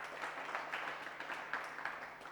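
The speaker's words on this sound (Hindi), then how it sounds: "जोरदार तालियां जो अलीशा के लिए।" Faint applause from a room of people for a student, steady scattered clapping heard from a distance across the whole stretch.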